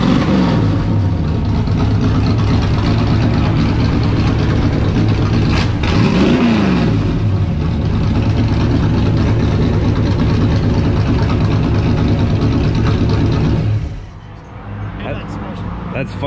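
A loud stock race car engine idles with a deep, rumbling lope, blips into a quick rev around the middle, then cuts off near the end.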